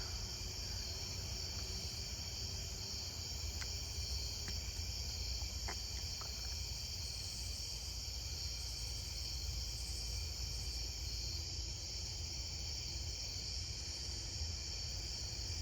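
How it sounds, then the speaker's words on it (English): Dense, steady insect trilling from pine tree crickets fills the night air continuously, a loud unbroken drone with a few faint clicks near the start. "I'm sure you heard the pine tree crickets."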